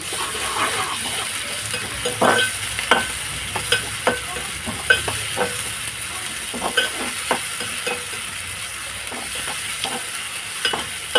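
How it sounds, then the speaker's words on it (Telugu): Ginger paste frying in a pan for mutton gongura curry, a continuous sizzle broken by frequent sharp scrapes and taps of a spoon, close and fairly loud, with no voices. "నేను ఒక 2 స్పూన్లు వేసుకుంటున్నాను అల్లం పేస్ట్. ఫ్రై చేస్తున్నాను."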